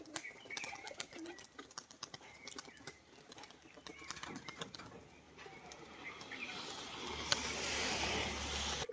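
Soft, repeated cooing from a male pigeon is heard amid scattered clicks and light rustling, with a low steady hum building toward the end.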